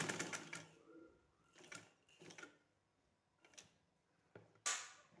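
A sewing machine stitches fabric for an open shirt design in several short, rapid mechanical bursts with quiet gaps between them. The stitching is close and clear, with no talk.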